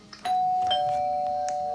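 A doorbell chimes once, loud and close, its bright tone held and slowly ringing out over about a second and a half with no talk.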